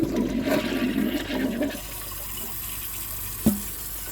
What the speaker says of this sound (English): And I'm gonna see if it can take it with another flush.